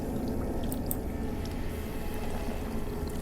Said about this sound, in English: You dip the jug into the water until it fills up completely.